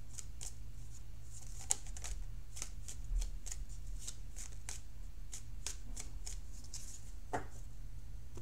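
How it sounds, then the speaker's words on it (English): A deck of tarot cards is shuffled over and over, with quick riffling bursts recurring steadily at close range against a low background hum. "So I'm going to shuffle for this outcome card."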